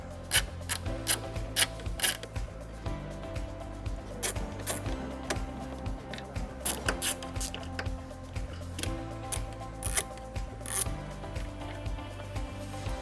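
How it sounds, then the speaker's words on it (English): An 8mm socket ratchet works loose the tail light screws on a 2016 Honda Fit, with steady rapid clicking and ticking of the pawl and some scraping and handling sounds, close and fairly quiet. "Using an 8mm socket, we're going to remove 2 screws that are located at the tail lights."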